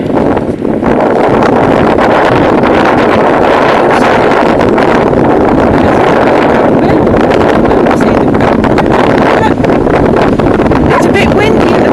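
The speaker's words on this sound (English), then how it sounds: "It's a bit windy at the minute." Gusty wind buffets the microphone on a river bank, a steady loud roar with rustling through the whole stretch, and no voices are heard.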